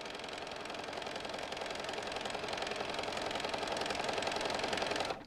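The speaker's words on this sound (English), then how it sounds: "we're going to just sew just to where the curve starts" A sewing machine stitching a lined Christmas stocking, a steady rapid mechanical whir with a fast even needle rhythm, close and continuous for about five seconds before stopping abruptly.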